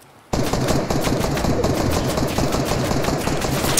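In a Fortnite match, a sudden burst of loud, rapid gunfire cuts in after a brief quiet start and continues as dense, fast-repeating shots until the end.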